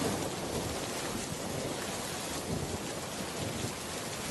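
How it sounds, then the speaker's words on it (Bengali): Steady, dense rain pours down in a cartoon storm scene, a continuous hiss with faint low rumbles of thunder underneath, filling the whole stretch without any talk. "দেখ বৃষ্টি শুরু হয়ে গিয়েছে"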